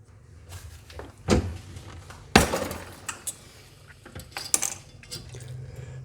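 A Pat Marlin 30 caliber gas check maker die being worked by pulling its ram, producing a few sharp metallic clacks and clinks at irregular intervals against a quiet background, close up.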